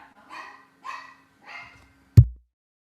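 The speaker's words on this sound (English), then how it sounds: "dogs barking out there" Three distant dog barks sound outside at an even pace, about half a second apart, followed by a sharp close thump.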